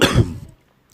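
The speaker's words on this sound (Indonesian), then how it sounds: "Aduh, batuk." One sharp, close cough with a short throaty rasp, then quiet.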